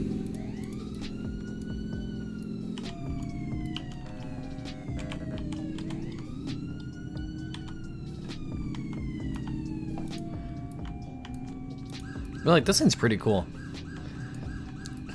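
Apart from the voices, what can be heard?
fire engine and ambulance sirens in the Roblox video game Southwest Florida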